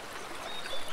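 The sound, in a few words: nature sounds recording of flowing river water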